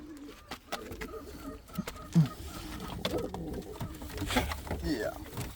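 Indian fantail pigeon chicks give faint, high squeaks among soft cooing and handling noises, with a person talking close by.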